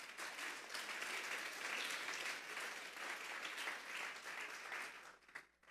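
A church congregation breaks into loud, sustained applause, dense and even for several seconds before it thins out near the end.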